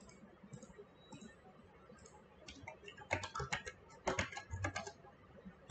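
Quiet clicks of a computer keyboard being typed on, entering placeholder text, in short irregular bursts over a faint background hiss.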